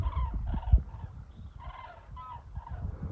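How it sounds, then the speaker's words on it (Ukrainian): Migrating birds fly away in a V-shaped skein and call in a series of honking cries at a moderate distance. Low rustling and scuffing noises sit beneath the calls. "відлітають птахи"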